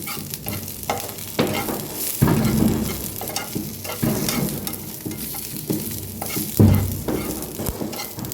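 Dry grated coconut and onion roast in a pan for Maharashtrian katachi amti, with a close crackling sizzle and frequent scraping stirs, a few louder thumps standing out, and no talking.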